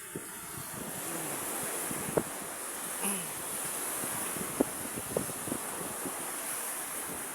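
Sea waves roll and wash steadily against a gusty wind that buffets the microphone, with a few faint knocks and a short distant tone breaking through the continuous surf.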